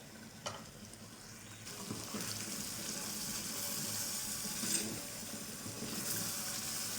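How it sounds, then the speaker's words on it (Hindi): Chicken karahi gravy bubbles and fries in a pan while being stirred, a soft, continuous sizzle with occasional scraping and clinks, fairly quiet and without voices. "अब हमने इसको इतना भून लेना है 5 से 7 मिनट के ग्रेवी थोड़ी सी ड्राई हो जाए"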